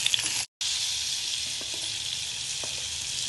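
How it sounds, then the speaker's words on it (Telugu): Amla paste fries with onion and turmeric in a pan, giving a steady, close hiss of sizzling oil with faint stirring clicks and one brief dropout. "2 నిమిషాలు ఫ్రై చేసుకోవాలి."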